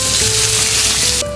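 Onion and garlic hit a hot paella pan for a duck paella, giving a loud, dense sizzle that drops suddenly in level just before the end.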